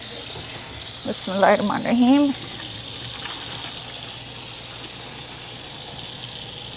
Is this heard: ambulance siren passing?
no